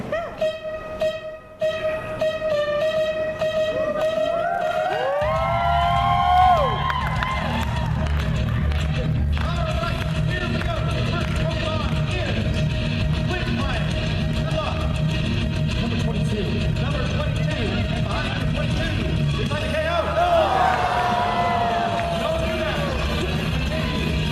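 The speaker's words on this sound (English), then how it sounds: "Audience, feel free to cheer them on." An audience at a Pokémon game show at the Naka-Kon 2015 convention cheers and claps in swelling waves, mixed with background music and a voice talking over the crowd.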